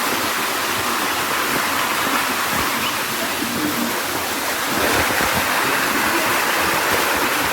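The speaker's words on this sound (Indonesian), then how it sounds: "terlihatlah sebatang anak sungai kecil yang airnya jernih dengan alam yang begitu asri." A small clear stream flows through lush forest, a steady broadband rush of water that stays constant and close throughout, with no voices.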